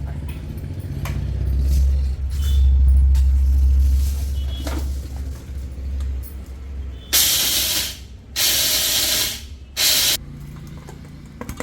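An Ema Bullet mixer grinder grinds idli podi spice powder in several loud, harsh, whirring bursts, each a few seconds long and separated by short pauses, with some low handling noise beforehand.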